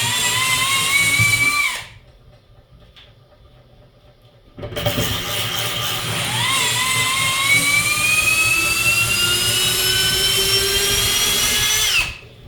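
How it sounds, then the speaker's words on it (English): A power drill whines at high speed while extracting honey, stops for a few seconds, then runs again in a long sustained burst that bogs down briefly under load. "you will break your drill if you ain't careful"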